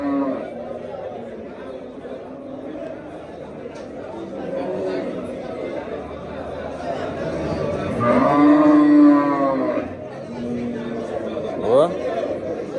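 A small cow moos once, a drawn-out low call rising over steady crowd chatter and voices at a busy livestock market.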